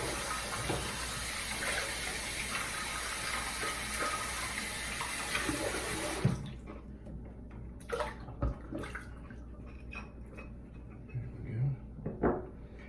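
Running tap water rinses shaving-soap lather out of a bowl, a steady broadband splash for about six seconds, then stopping into quieter clinks and handling sounds.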